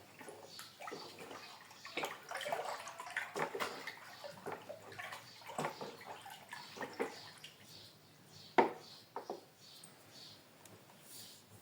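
Water pours and splashes irregularly into a container, with gurgles and small drips, fairly quiet and close, no talking.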